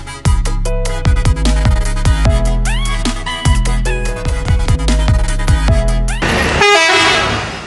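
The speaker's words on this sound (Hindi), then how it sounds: "बस का हॉर्न बहुत दिनों बाद सुनाई दिया है" A bus horn blares on a Cairo street in Egypt with loud, insistent honks, long and short blasts in an uneven rhythm, close and dominant, ending in a burst of broadband traffic noise.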